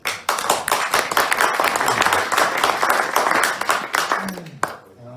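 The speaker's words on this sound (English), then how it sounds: "Let's give Lior a big round of applause." Applause from the audience at an investment club event in Zurich: loud, close, dense clapping that starts abruptly and continues vigorously for several seconds, then cuts off quickly near the end.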